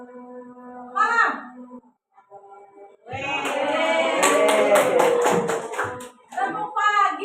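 Children in a classroom clapping hands in a rhythmic clapping game, bursts of quick sharp claps in short patterned runs mixed with their chanting voices and a teacher's talk.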